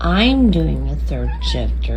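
A spayed, neutered cat lets out a drawn, rising-and-falling meow up close near the start, then a person talks over a steady low hum.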